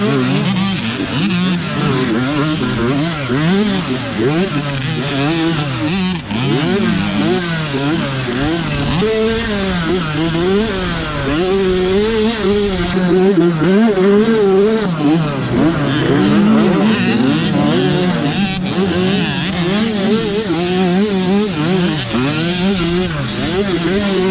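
A Yamaha YZ65 youth dirt bike engine revs hard and continuously through a GNCC youth race at Mason Dixon, loud and close, with the pitch constantly climbing and falling as the throttle is worked, other bikes blending in.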